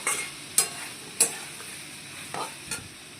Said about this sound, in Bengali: মশলাটা কষানো হচ্ছে, ডাঁটা আলুটা ও সেই কালার হয়েছে কষানোটা।